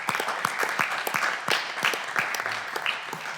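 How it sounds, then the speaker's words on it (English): Panelists receive applause at the end of a long day of debate on European data sharing: a modest, fairly quiet patter of hand claps from a small audience, steady and unhurried across the whole stretch. "I would like first we applaud the panelists"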